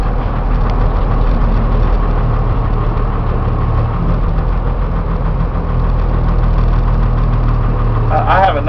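A 14 ft Utilimaster FedEx step van's diesel engine idles steadily and loudly close by, with a continuous low knocking rumble throughout and a brief rattle near the end.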